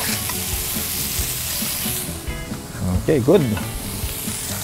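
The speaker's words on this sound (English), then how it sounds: "Put in six patties." Six burger patties sizzle loudly in a hot pan for a double-deck cheeseburger, a dense, continuous hiss close by with a short spoken remark near the end.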